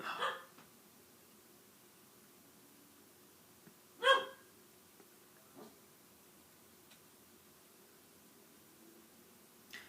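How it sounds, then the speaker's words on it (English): A dog indoors gives two short, sharp barks a few seconds apart, the second louder, with faint ticks and quiet room tone between and no talk. "my dog is barking. She literally barks at nothing."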